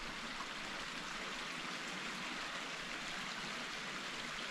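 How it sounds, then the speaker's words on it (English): A creek rushes steadily below a working bridge, a constant, even wash of flowing water with no voices, heard from a little distance. "So listen to the creek down here."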